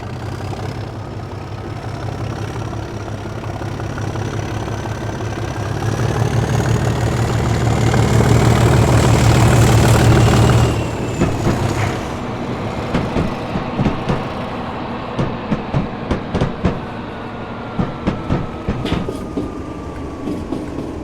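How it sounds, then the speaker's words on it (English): Diesel locomotive 37428 departs Yarmouth for Norwich with a heavy engine drone that swells and peaks before fading, followed by a series of rhythmic clanks and clicks as the train wagons roll over the rail joints. "37428 did most of the work, and is seen here departing Yarmouth en route back to Norwich"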